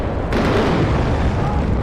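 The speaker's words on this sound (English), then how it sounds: "These MW1s are so awesome, how they drop their bombs" Cluster bombs from an MW1 dispenser on a bomber exploding in the WARNO war game, a dense, continuous, loud rumbling roar of detonations with a slight burst near the start.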